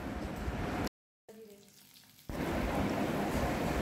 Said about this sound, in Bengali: এবার এতে আমি আলু ছেড়ে দিচ্ছি।